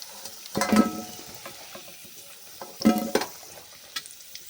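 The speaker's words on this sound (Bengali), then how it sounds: "আলু আর রসুনগুলোকে খুব ভালো করে ভেজে নিয়েছি, তুলে নিচ্ছি।" Potatoes and whole garlic frying in oil are stirred and lifted from the pan: two short scraping bursts over a soft, quiet sizzle.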